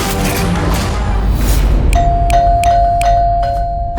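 A doorbell rings in quick succession about six times, bright chimes cutting through a loud, dense background soundtrack.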